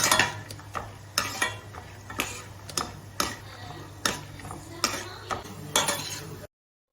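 Half a cup of peanuts frying in oil over a low flame, stirred with a spoon that clinks against the pan in a steady rhythm of sharp taps over a faint, constant sizzle.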